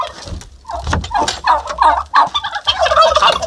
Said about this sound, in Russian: Только индики гуляли.